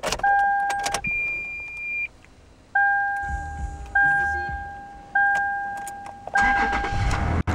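A Toyota SR5 with a 4-liter V6 and about 41,000 miles: a two-tone door chime beeps repeatedly inside the cab, then the engine cranks and catches with a loud, close rumble at the very end.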